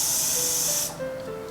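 Hairspray hisses from an aerosol can onto lifted hair roots during a volume styling session, one steady close spray lasting under a second before cutting off.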